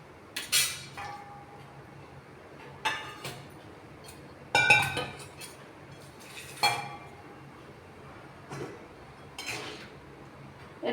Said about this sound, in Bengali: আমি 2 মিনিটের জন্য এটা ঢাকা দিচ্ছি।